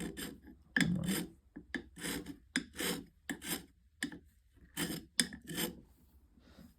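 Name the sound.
carbide scraper scraping wood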